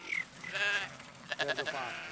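Sheep bleat in the Carpathian foothills near a traditional Romanian village, where flocks are still herded by shepherds. One short call comes first, then a longer bleat, then a quick wavering run of bleats, all close and clear.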